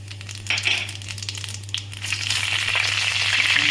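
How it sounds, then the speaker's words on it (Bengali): Dried red chilies, bay leaves, nigella seeds and radhuni dropped into hot oil as a tempering give a steady close sizzle and crackle that grows louder and brighter toward the end, with a low hum underneath and no talking. "শুকনো লঙ্কা তেজপাতা আর এই কালো জিরে আর রাঁধুনি যেটা আছে এটা ফোড়ন দেবো আমি।"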